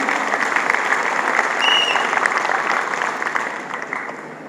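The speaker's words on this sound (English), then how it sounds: "the team requires a big round of applause for what we actually did" An audience applauds a team at a staged business presentation, a continuous wash of many hands clapping, loud and even, gradually easing slightly toward the end.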